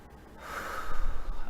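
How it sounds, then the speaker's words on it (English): A person draws one slow, deep breath, a soft airy inhale swelling louder over about a second, close to the microphone with no talk. "I need to just do some of that deep breathing."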